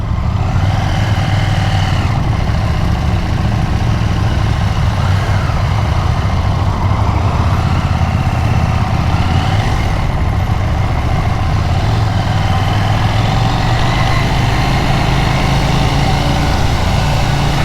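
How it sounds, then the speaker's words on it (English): Husqvarna Svartpilen 801 motorcycle engine in street mode, throttle blipped and eased while riding, a steady loud rumble rising and falling with wind noise throughout. "I'm just going to try the throttle and see if it's as choppy while I'm in street mode."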